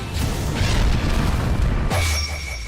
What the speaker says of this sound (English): Exploding blood.